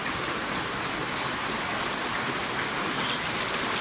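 Heavy rain from Tropical Storm Andrea pouring down steadily in June 2013, a dense, loud, unbroken hiss of drops hitting surfaces close by, with no voices.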